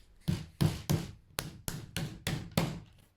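Hammer blows land on wood while a bookshelf is put together, eight sharp, evenly spaced strikes in about three seconds, close and fairly loud with nobody talking.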